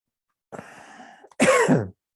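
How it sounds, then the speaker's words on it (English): One person breathes in with a long raspy inhale, then gives a single loud, harsh cough close by. "you may cough, and that's a good thing."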